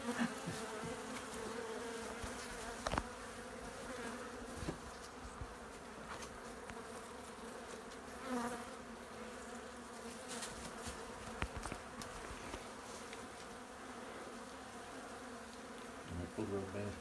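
A big colony of bees buzzing behind a chimney, with a dense, steady drone, scattered louder individual bees near the listener and occasional bumps and clicks of work around the hive.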